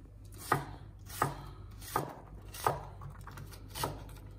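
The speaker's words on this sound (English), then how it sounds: "Like this, we make all same cubes from the onion and from all the vegetable" A knife dicing onion into cubes on a cutting board, six crisp, evenly spaced chops about every 0.7 seconds, close and clear with no talk.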